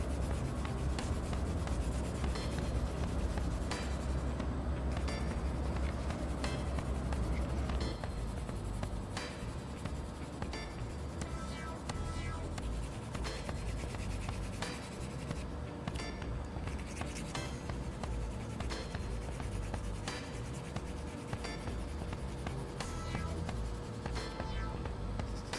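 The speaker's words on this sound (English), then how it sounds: "Now we are using 6B pencil, that is bit darker than 4B." A 6B graphite pencil shades on paper for a still-life drawing, a continuous close scratchy rubbing of repeated strokes that goes on steadily, with no voice over it.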